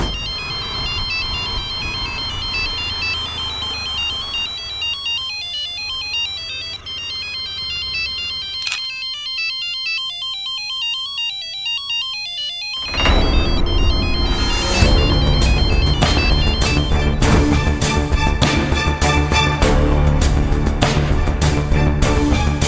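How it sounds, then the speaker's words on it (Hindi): A mobile phone ringtone rings out in a Hindi TV drama, a melodic electronic tune that repeats, then swells as fuller music joins in at a steady, fairly loud level with no talking. "गुनगुन के फोन में कौन फोन कर रहा है?"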